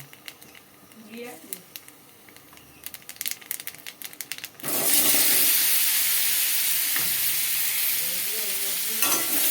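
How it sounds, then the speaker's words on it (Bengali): Vegetables hit hot oil with cumin in a pan for a Bengali potol and potato dish, bursting into a loud, steady sizzle partway through after quieter stirring and clatter, with a voice heard faintly before the frying starts. "জিরে দিয়ে আমি সবজিগুলোকে ভেজে তুলে রাখবো।"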